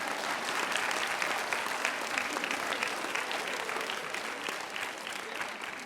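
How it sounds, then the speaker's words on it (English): An audience at a talk on health disparities and community health breaks into steady, dense applause that holds evenly for several seconds, with no voices over it. "That is a naked appeal for applause. It always works."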